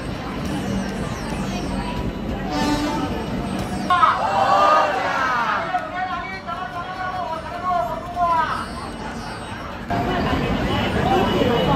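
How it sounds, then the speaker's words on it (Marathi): Crowd chattering on a busy station platform as the packed Konkan Kanya train pulls in, a dense steady babble of many voices with low rumbling underneath, close and continuous throughout. "गर्दी आहे बघा, गर्दी"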